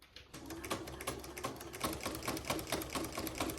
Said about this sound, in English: we'll sew down the top of this pocket